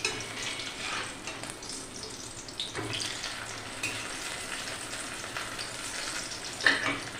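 Ash gourd fritters fry in hot oil, a dense continuous crackling sizzle close up, with a few brief clatters as they are turned, no voices.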